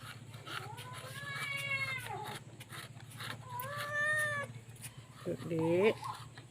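A cat meows three times, in drawn-out, rising and falling cries spaced a second or two apart. The calls sound close and moderately loud over a low steady hum.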